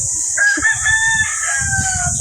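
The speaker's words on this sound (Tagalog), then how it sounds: "Yung mga manok po namin." A chicken in a backyard flock crows once in a single drawn-out cock-a-doodle-doo, close and loud, with faint low rustling underneath.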